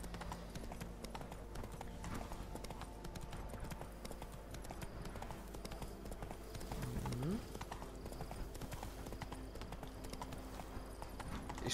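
Horse hooves clip-clop in a steady rapid galloping rhythm in The Witcher 3: Blood and Wine, a faint game soundtrack underneath, with a short horse snort or whinny partway through.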